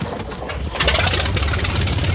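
Small propeller airplane engine starting after contact and choke commands, a brief cranking cough swelling into a steady, loud close engine roar that runs on without talk.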